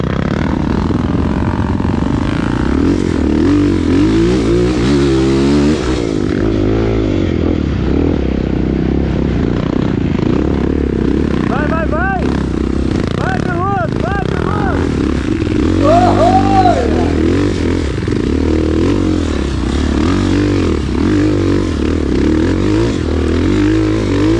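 Motorcycle engine on a trail ride near São Brás de Maravilhas, droning and revving up and down continuously close by, with clatter and scraping mixed in and a few brief voices.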